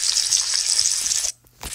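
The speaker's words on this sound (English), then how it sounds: "the sizzling is pretty satisfying" Eggs sizzling in a Roblox obby video game, a bright crackling hiss that runs steadily, cuts out abruptly for a moment near the end, then briefly returns.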